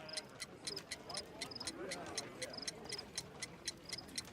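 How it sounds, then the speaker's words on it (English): A homemade ticking bomb clock in a Sherlock Holmes video game ticks steadily and quickly, crisp and close, while a voice speaks over it. "A fancy ticking homemade gift from a secret admirer."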